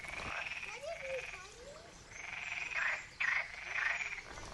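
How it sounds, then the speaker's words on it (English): Frogs croak loudly near a stone house in rural Portugal in repeated rasping bursts, some overlapping, with a few short gaps between calls. "God, those frogs. They're so noisy, eh?"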